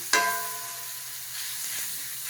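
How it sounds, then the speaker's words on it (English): Cold potatoes and onions hit a hot pan for diner-style hash browns, a sharp initial sizzle settling into a steady close frying hiss that swells slightly near the end, with no talk. "we're making a diner style hash brown right now"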